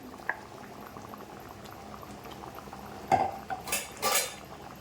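Coconut and onion paste ground with shallots and green onion is stirred into a simmering mango curry with drumsticks; a soft, steady bubble runs throughout, then a few sharp metal clinks and scrapes of a ladle against the pot near the end.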